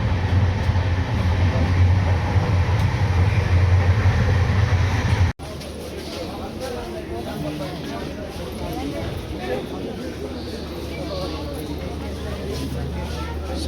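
A passenger train on a long rail journey toward Gorakhpur rumbles steadily with rolling wheel noise, loud and continuous, the sound shifting abruptly partway through, with talk mixed into the carriage din.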